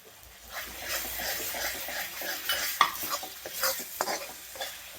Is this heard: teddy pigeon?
no